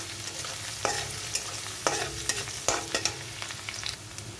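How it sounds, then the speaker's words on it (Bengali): Garlic frying in hot oil in a pan for a kalmi shak recipe, stirred with a utensil: a steady sizzle broken by several sharp scraping knocks, close and clear. "রসুনটা একটু নাড়াচাড়া দিয়ে, গন্ধটা তো বেরোতে হবে"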